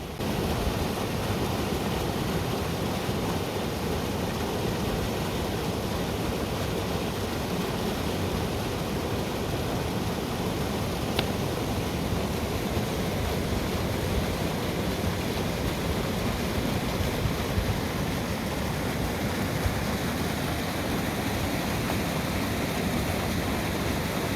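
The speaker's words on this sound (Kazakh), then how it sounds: "Біздің жақта көктемгі еріген қардың суы өзенге кеп қосылып, осылай тасып жатыр." A river swollen with spring snowmelt floods its banks, giving a steady, dense rush of water that holds even and unbroken throughout, with no voices.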